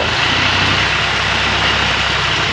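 A boom truck's heavy diesel engine runs steadily at a machine shop where an old Nissan Patrol's engine is being lifted into place, giving off a loud, constant low rumble with no break.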